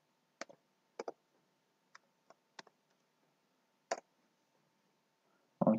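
A few sparse key clicks from typing a command on a computer keyboard, single taps and short pairs spread out with quiet gaps, close and fairly faint, ending in a louder burst.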